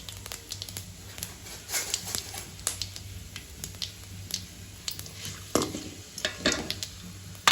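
Whole spices such as fenugreek, cinnamon, bay leaf, cardamom, fennel and star anise fry in oil for a curry, making a low sizzle with frequent crackles and stirring clatter throughout.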